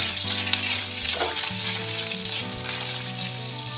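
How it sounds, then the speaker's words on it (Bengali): A paste of green chili and ginger fries on low heat in a pan, giving a steady, dense sizzle that stays close and even throughout. Light stirring sounds now and then, and no one speaks. "এটা প্রথমে দিয়ে দেব তা লো হিটে এক মিনিটেরও কম সময় তা নেড়ে নেব"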